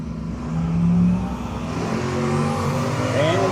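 A 1967 Mustang drag racing at a no-box 660 shootout, a loud sustained engine roar building and shifting in pitch as the car revs and pulls away down the strip.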